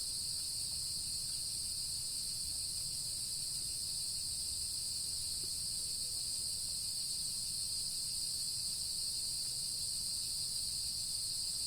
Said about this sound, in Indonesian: Banyak serangga.